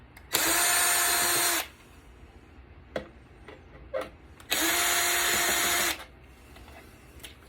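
A power drill backing screws out of a Premio computer case: two loud steady whirring bursts of about a second and a half each, separated by clicks and small knocks as screws come loose, close up with no voices.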